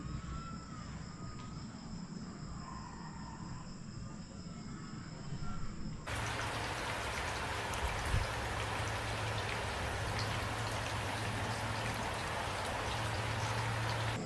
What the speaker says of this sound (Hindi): बारिश को भी आगे पड़ना था